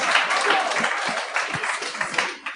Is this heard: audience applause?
yes